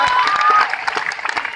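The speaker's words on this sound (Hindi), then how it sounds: "तालियां।" Applause from an audience at a company anniversary meeting, a dense clatter of clapping that thins out and turns into scattered claps toward the end.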